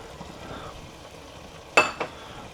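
Minced beef and vegetables for chili con carne sizzle softly in a pan, broken by two quick scraping clanks of a utensil stirring against the metal.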